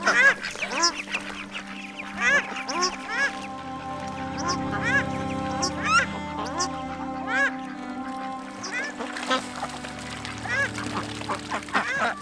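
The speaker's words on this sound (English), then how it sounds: "Well, the ducks have been fed." Ducks being fed at an orchard valley glamping site in Waitomo, New Zealand, quacking repeatedly in loud, overlapping bursts close by, with people talking over the birds at times.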